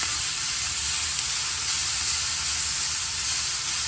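Fajitas sizzle hard in a hot pan, a loud, continuous, dense hiss of frying close by with no pauses.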